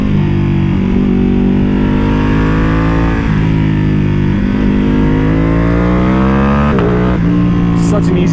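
A custom Ducati Panigale V2 motorcycle engine drones loud and close while riding, its pitch rising and easing through several gear changes, with a voice talking over it at times.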